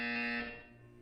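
A buzzer sounds in the video game Portal 2: a single loud, steady tonal blare lasting about half a second, then fading into a lingering quieter hum.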